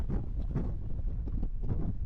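Wind blows steadily on an island shoreline, buffeting the microphone in low, gusty rumbles with no voices.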